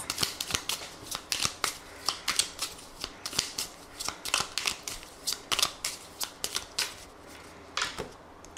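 A 32-card deck is shuffled by hand, crisp papery riffles and snaps repeating in a quick, fairly regular rhythm, close and clear with no talk.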